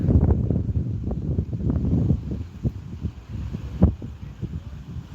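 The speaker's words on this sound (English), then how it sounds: "it's windy, and if I set it down, the wind blows it over" Steady, gusty beach wind buffets the microphone, a low rumbling roar with irregular thumps and no voices.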